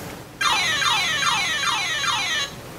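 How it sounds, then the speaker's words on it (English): A dragon-flying sound cue made of a repeating series of siren-like rising and falling electronic notes, loud and steady for about two seconds with no talking. "when you press dragon flying, you hear a series of siren-like rising and falling notes"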